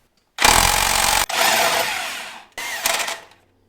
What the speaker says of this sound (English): We're still using that clutch puller that came with the Mother Clutcher kit, and it's still doing really good.